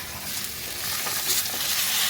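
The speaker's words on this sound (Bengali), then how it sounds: "এখানে শাকের মাছগুলো কষানো হয়ে গেছে, দিয়ে দিলাম আলু। আলুগুলো একটু কষিয়ে নিব আগে।" Potatoes fry in a pan with fish and greens, a dense continuous sizzle that holds steady and grows slightly louder as the pieces are stirred.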